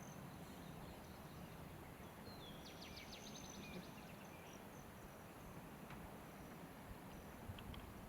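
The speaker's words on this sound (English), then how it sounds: "as you listen to the birds around us" Birds sing outdoors in summer, with faint, scattered chirps and a short trill over a steady hiss of insects. No one speaks.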